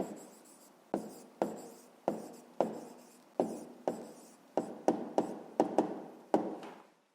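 A pen or chalk taps and strokes out an answer in a school maths exercise, a series of about a dozen sharp knocks, each trailing into a brief scratch, close, with no voice.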